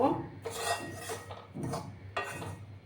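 Roasted wheat flour being mixed with sugarcane jaggery in a metal pan, with rhythmic scraping and rubbing strokes of a utensil against the pan, close up and moderately quiet.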